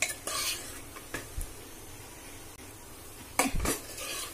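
A spoon stirs koottukari with ground coconut in a pot for an Onam sadya-style dish, making close scraping and knocking sounds in uneven strokes, with a louder clatter near the end and no voices.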